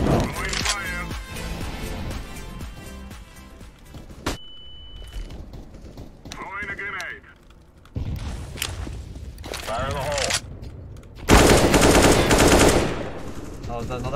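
AK rifle fire in the shooter game CS:GO rings out in loud, rapid bursts and single shots, mixed with game effects, footsteps and quieter gaps, and a voice talks in places.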